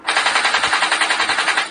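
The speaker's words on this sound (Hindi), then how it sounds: "बाकी सारे ज़ॉम्बीज़ भी गुल्ली बुली सोन पर गोलियां चलाना स्टार्ट कर देते हैं।" A cartoon machine-gun sound effect plays as zombies open fire: a loud, rapid burst of evenly spaced shots rattling steadily for under two seconds, with no other sound.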